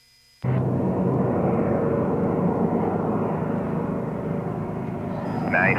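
Aircraft landing gear being lowered during a hydraulic test by Sanders Aeronautics. A loud, steady mechanical roar starts abruptly and holds nearly unchanged for about five seconds, with a brief voice near the end.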